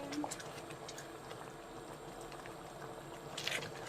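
A pot of thickened cornstarch sauce for kwek-kwek, thinned with water, bubbles and simmers softly while being stirred, a faint continuous gurgle with a light clink near the end.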